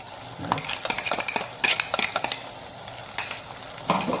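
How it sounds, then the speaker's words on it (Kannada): Green masala for a Mangalorean sardine curry sizzles in hot oil while a spoon stirs and scrapes the pan in repeated close strokes, a steady frying hiss under the clatter with no talk. "ಹುರಿಯುವ ಎಣ್ಣೆಯಲ್ಲಿ ಸ್ವಲ್ಪ ಸಾಫ್ಟ್ ಆಗುವವರೆಗೆ ಹುರಿದುಕೊಳ್ಳೋಣ"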